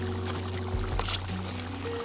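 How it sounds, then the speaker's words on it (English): Washed rice is poured into a kazan pot over a steady low background hum, making a brief, close rushing pour. "our rice is clean and we will add it into kazan"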